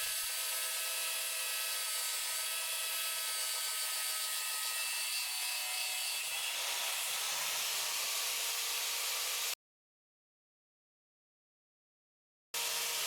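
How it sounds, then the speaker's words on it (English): A mini chop saw cuts through 3/8 inch square mild steel with a loud, steady abrasive roar that runs for about nine seconds, stops abruptly into silence, then starts again briefly at the end. "Now this is a piece of 3/8 inch square mild steel."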